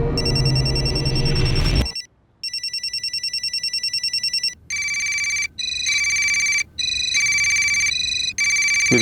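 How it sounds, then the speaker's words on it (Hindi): A mobile phone rings in an indoor scene, a sharp burst of noise giving way to a repeating electronic ringtone in steady pulses, loud and near, with no talking. "विवेक की माँ का फोन बज रहा है सर।"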